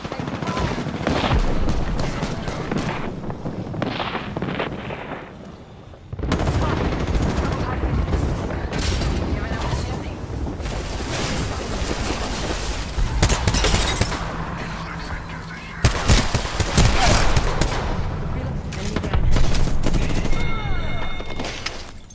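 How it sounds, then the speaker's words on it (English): Gunfire in Apex Legends runs almost continuously through heavy combat: repeated rapid automatic bursts and sharp single shots, some close and loud, others more distant, with only a brief lull early on. "Getting shot at."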